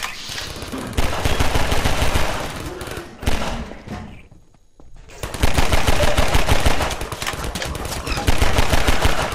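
Automatic turret gunfire in Half-Life 2, a dense, loud stream of rapid shots that cuts out briefly around the middle before resuming with equal intensity to the end.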